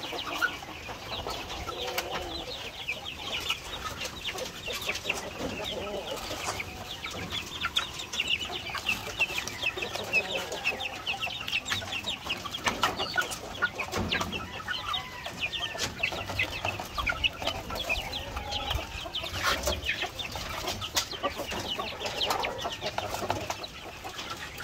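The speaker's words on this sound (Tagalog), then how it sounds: "So ito naman yung ating mga panglaban na manok dito, game fowls." Game fowl chickens at feeding time, waiting hungrily in a pen, clucking and squawking continuously in a busy flock, fairly close, with no talking.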